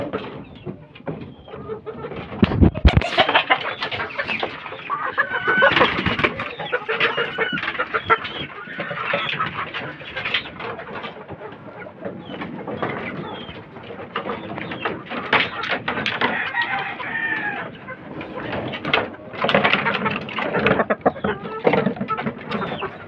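Pet fighting roosters and hens cluck and call while eating spilled feed, busy and close, with a person talking intermittently among them.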